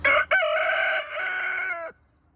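A rooster gives a single loud, close crow lasting about two seconds, preceded by a short sharp note, then cuts off into quiet.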